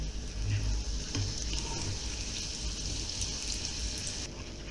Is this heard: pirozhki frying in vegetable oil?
yes